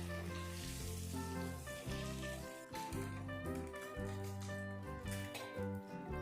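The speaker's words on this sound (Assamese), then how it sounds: "এতিয়া এইখিনি ভালদৰে মিক্স কৰি লৈছোঁ আৰু ৰঙচুৱা হোৱালৈকে ডিমকেইটা ফ্ৰাই কৰি ল'ম" Boiled eggs frying in oil with Kashmiri chili powder and turmeric, a soft continuous sizzle with faint stirring, quiet and close, running steadily for about six seconds.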